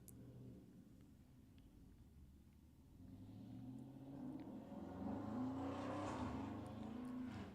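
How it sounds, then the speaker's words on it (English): Car speeding past outside, a faint distant rumble that swells into a revving engine roar over several seconds before easing off, heard indoors. "Hope you all didn't hear that car speeding outside."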